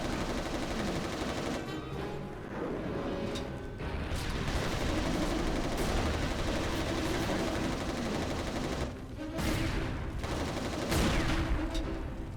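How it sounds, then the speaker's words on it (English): Rapid, sustained gunfire with bursts of automatic shots in the shooter Resistance: Retribution, dense and loud throughout, with no talking over it. "let's shoot"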